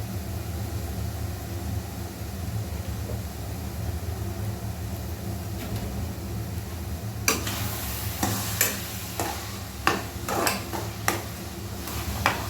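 Eggplant fries in mustard oil with a soft, steady sizzle, followed later by sharp scraping and clinking of a utensil against the pan in irregular strokes.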